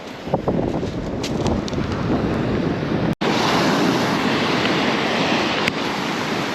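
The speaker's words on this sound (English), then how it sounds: "I'm getting covered by the waves here" Sea waves break against the coast along the Lycian Way, a loud continuous wash of surf, with heavy wind buffeting the microphone throughout.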